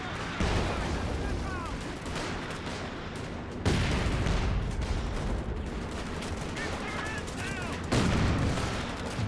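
MG42 machine gun fire in a Company of Heroes 2 multiplayer match, with sustained rattling bursts and heavier impacts recurring every few seconds over dense battle noise, partly under commentary talk.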